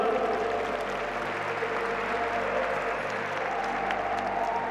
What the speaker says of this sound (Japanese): 両チーム選手に大きな拍手をお送りください